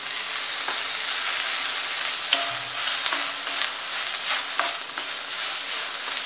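Grated coconut roasting in a little oil in a hot pan alongside browned onion, a steady close hiss of sizzling with occasional stirring scrapes, no voices.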